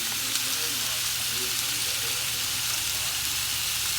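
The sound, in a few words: frying food in a pan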